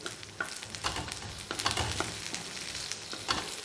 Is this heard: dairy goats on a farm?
no